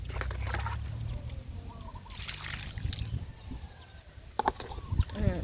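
A homemade liquid fertiliser mix is poured from a cup onto potted Aglaonema and caladium plants, a soft continuous trickle and splash under faint background noise, ending with a few louder knocks.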